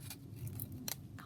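Scissors snip through paper for booklet making in a few quick close crunching cuts, three distinct blade closes in about a second.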